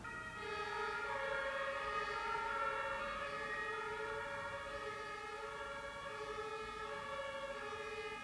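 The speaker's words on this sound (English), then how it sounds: "It's also siren season in Germany." A civil defense siren in Germany wails steadily from a distance, its sustained rising tone holding for several seconds over faint background noise, with no voices.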